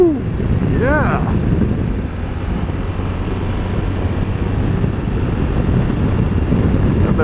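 Strong wind buffets the microphone on a windy mountain road beside a small lake in Morocco, a constant loud rumble that carries on throughout, with a brief whistling tone early on.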